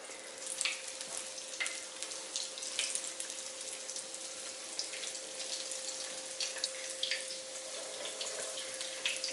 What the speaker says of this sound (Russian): Масло разогрелось, укладываю пирожочки.